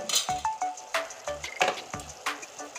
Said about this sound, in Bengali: আরও কিছুক্ষণ আমি কষিয়ে নেব